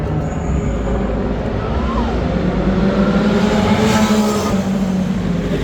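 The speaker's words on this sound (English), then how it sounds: "they have all the Integra regular cars going around the track" Acura Integra race cars circling a track at a Long Beach grand prix, their engines making a continuous, fairly loud drone with a pitch that rises and falls as the cars pass.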